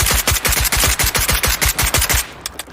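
Automatic weapon firing in the video game SCP 5k, a rapid, loud, evenly spaced burst of about fifteen shots that ends abruptly as the gun runs dry.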